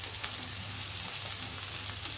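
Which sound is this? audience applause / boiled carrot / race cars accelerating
boiled carrot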